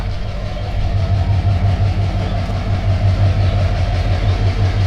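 Burimari Express locomotive idling at Parbatipur Junction, a steady low diesel rumble with a deep droning hum, close and continuous throughout.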